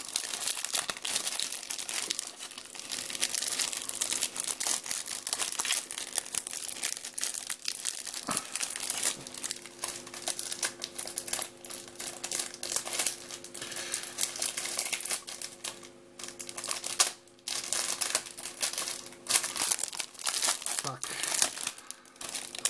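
Packaging from an eBay parcel sent from France, wrapped in plastic film, is crinkled and torn close up in a steady, dense rustle that runs nearly unbroken throughout.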